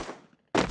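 Video game gunfire, a sharp burst of shots after a quieter fading tail of a previous blast, loud and close.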